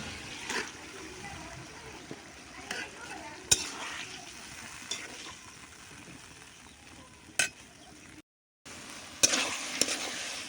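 Taro leaves go into a pan of fried hilsa fish and spices and are stirred, a soft sizzle under repeated scraping and clinking of a spoon against the pot, with a few sharper knocks.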